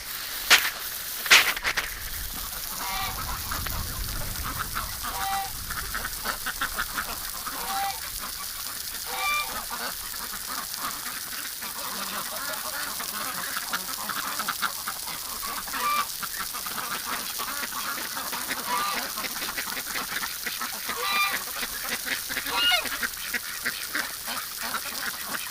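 Wild ducks call on the water on an early winter morning: scattered quacks and honks, some close and some farther off, over a steady wash of wind noise.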